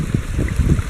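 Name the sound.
water running through a gold prospecting sluice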